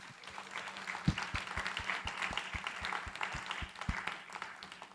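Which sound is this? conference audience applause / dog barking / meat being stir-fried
conference audience applause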